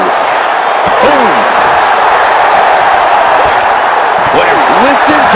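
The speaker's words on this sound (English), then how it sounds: "Listen to this crowd" Roaring arena crowd in the WWE 2K25 wrestling video game, a loud steady wall of cheering with sharp slam impacts and occasional whoops rising out of it, continuous throughout.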